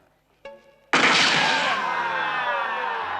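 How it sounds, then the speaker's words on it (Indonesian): A faint tone sounds briefly, then a single loud gunshot cracks and rings out, its echo trailing off slowly. "kan ada suara tembakan"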